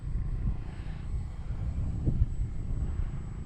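An E-flite T-28B Trojan RC plane flying at half throttle in gusty wind, its motor a faint, distant drone buried under low rumbling wind buffeting across the microphone, with no voices.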